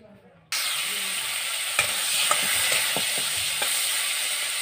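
Sang fish fries in oil with turmeric and salt, a loud, steady hiss of sizzling that bursts in suddenly after a quiet start, with a few sharp pops and utensil clicks, close up.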